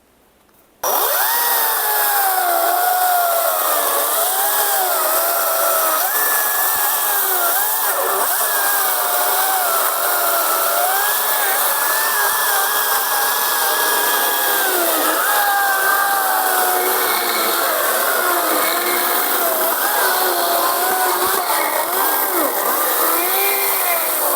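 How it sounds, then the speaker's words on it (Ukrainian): Procraft PKA48Li cordless battery chainsaw cutting through maple log, starting abruptly and then whining loud and close in a continuous wavering buzz as the chain bites the wood, no talk over it. "Спочатку батько відпилює одну сторону, потім я іншу сторону відпилюю"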